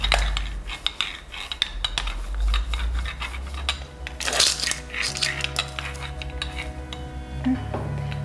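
A flat spoon scraping and pressing across an orange cake layer in a kitchen, producing soft rubbing and scraping with light metallic clinks against the dish, close and fairly quiet, with no voices.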